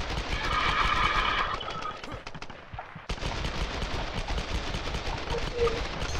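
Rapid automatic gunfire in the Tomb Raider multiplayer video game rattles in dense bursts, with a steady stream of shots through most of the stretch.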